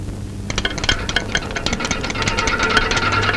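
An electric fan runs with a rattling, clattering mechanical whir that starts half a second in and grows slightly louder. Rapid ticks and knocks repeat irregularly over a low hum, close and moderately loud, with no talk.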